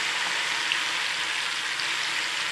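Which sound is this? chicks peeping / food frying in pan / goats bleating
food frying in pan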